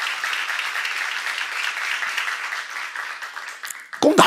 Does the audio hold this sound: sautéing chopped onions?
no